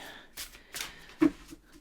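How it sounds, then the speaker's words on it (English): Oracle tarot cards are shuffled in a few soft, separate riffling bursts, close and quiet, with a small tap near the end. "I'm going to shuffle a little bit more because I only want one card."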